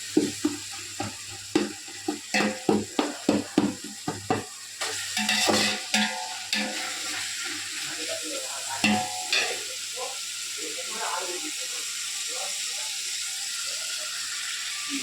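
Masala being stirred and mixed in a pan, opening with a run of rapid rhythmic scraping strokes, then settling into a softer continuous sizzle with occasional clinks, close up with no talking.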